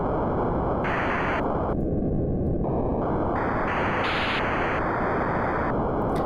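Synthesizer noise from a randomly varying oscillator at audio rate, its pitch stepping up and down through several distinct levels, with each shift in brightness clearly audible over a constant loud hiss.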